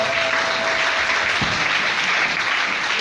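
A church congregation applauding the Lord during a sermon, a full, even wash of clapping that holds steady for the whole stretch, with a faint low voice briefly beneath.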